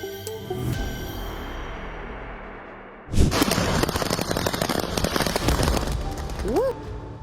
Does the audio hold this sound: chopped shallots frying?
no